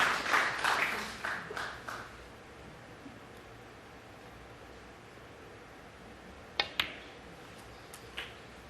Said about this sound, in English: You might have heard a short burst of applause.